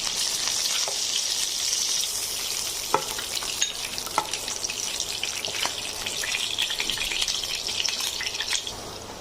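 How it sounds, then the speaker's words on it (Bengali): Chicken pieces frying in a pan and being flipped, a steady close sizzle with occasional sharp clicks and taps of a utensil against the pan. "আমি সবগুলো চিকেন উল্টে দিয়েছি। চিকেনগুলো 2 পাশ ভাজা হয়ে গেছে"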